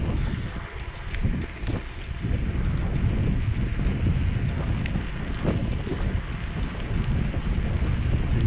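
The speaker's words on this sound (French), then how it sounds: "On sent un peu le vent dans les oreilles." Strong, steady wind buffeting a microphone while riding a mountain bike fitted with a SuperWheel 650 electric wheel. The low roaring rumble is continuous and loud, with no talking.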